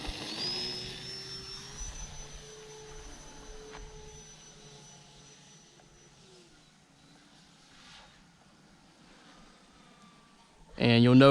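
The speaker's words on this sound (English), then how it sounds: "We'll do a no flap takeoff." A Turbo Timber Evolution RC airplane's electric motor winds up and holds a steady whine as it rolls out for a scale-style takeoff with no flaps, the tone sliding lower as the plane pulls away and fades, before a loud close burst of noise at the end.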